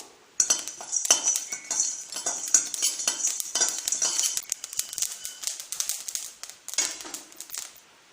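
Black pepper and fennel seeds dry-roasted in a pan, with brisk rattling and scraping of a metal spoon against the pan, rapid clinking strokes close up and without voices.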